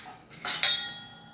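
Metal kitchen utensils, a lota and plates, being handled: a few light scrapes build to a bright metallic clink that rings on briefly, close by, with no talking.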